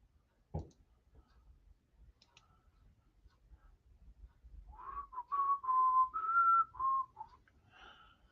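A person whistles a short melodic tune, clear and close, after a single click and some quiet shuffling.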